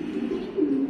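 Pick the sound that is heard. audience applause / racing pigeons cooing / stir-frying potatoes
racing pigeons cooing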